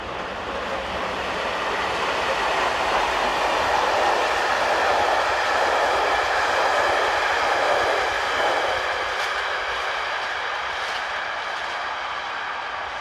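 A Polish Class 810 railcar train passing, a broad rolling rush of wheels and air that swells and fades with faint metallic rail clicks, moderately loud and without voices.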